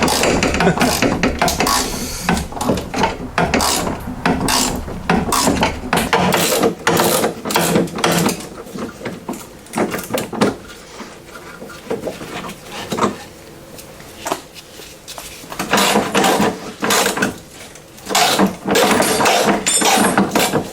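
A ratchet wrench works rusty bolts loose on a Talbot Express camper van front panel, with rapid clicking pawl runs, metallic clanks and knocks in close, irregular bursts, no speech over it.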